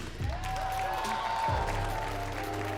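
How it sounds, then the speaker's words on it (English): Steady applause from a crowd, continuous and fairly loud, with a few voices faintly mixed into the clapping. "A big, huge round of applause"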